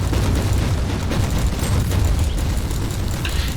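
A grenade blast in the video game Warhammer 40,000: Inquisitor, a dense, rumbling boom that fills the whole moment at steady loudness with no clear separate strikes, heavy low end throughout.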